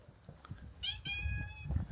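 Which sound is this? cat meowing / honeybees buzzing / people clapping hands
cat meowing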